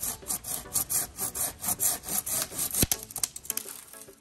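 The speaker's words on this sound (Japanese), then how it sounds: "で今度上側切るんですね" A gardener's handsaw cuts through the upper side of a tree branch in quick, regular rasping strokes close by, followed by a sharp crack as the wood gives way and scattered splintering.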